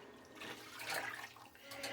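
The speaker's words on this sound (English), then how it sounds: "So let me add more water" Water poured into a pot of sancocho with meat cooking, a soft continuous splashing pour that swells in the middle and trails off, quiet and close, with no talking.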